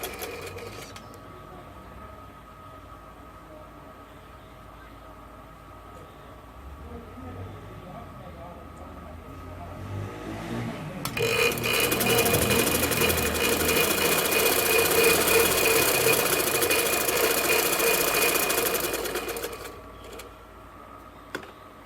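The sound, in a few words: sewing machine stitching a kurta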